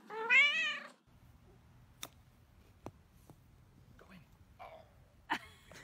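A cat gives one loud, close, wavering meow, followed by quiet room sound with a few faint clicks and small rustles.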